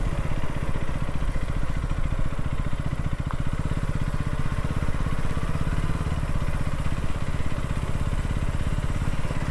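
A KTM Duke 250 motorcycle engine runs steadily throughout, a loud, continuous close-up rumble with no break and no voices.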